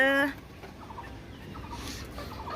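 A single loud, harsh caw from a bird rings out at the very start, then fades into quiet outdoor ambience.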